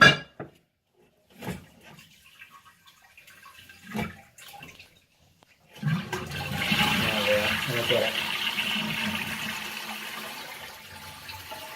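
A dual button toilet is flushed after a repair. A few clicks and handling knocks come first, then a sudden rush of water settles into a steady refilling hiss that keeps going to the end.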